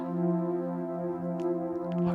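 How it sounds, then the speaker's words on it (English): A mountain rescue helicopter flies over the Lake District fells near Grisedale Tarn, its rotor and turbine a steady droning hum heard from a distance, with faint wind and movement noises nearby. "There goes a mountain rescue helicopter."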